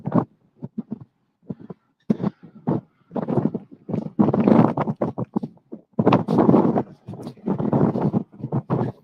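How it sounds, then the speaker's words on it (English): Strong wind buffets an outdoor microphone in loud, irregular gusts that thump and roar, with short pauses between bursts. "It's very windy."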